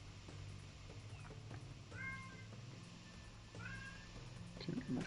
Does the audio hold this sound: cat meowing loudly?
yes